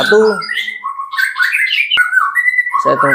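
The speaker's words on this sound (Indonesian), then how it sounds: "salah satu murai batu saya" A white-rumped shama (murai batu) calls loudly and close, rich varied whistles and squawky phrases with brief pauses, and a short human voice-like bit at the edges.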